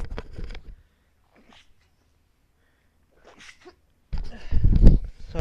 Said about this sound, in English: Give me a sec, I was about to sneeze.